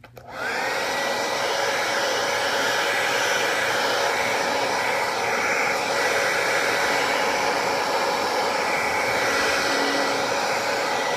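A heat gun blows steadily while warming a decal on a motorcycle fairing, producing a loud, continuous whooshing roar that holds unbroken for about ten seconds with no voices.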